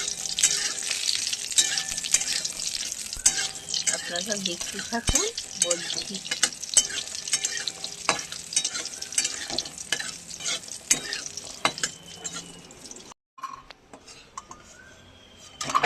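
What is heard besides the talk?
lentil dumplings (bori) frying in a pan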